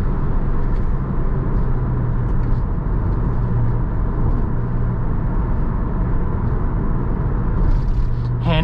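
A 2000 Porsche Boxster S engine growls steadily while driving in third gear, a loud, deep and continuous rumble heard from inside the car with no break for the whole stretch.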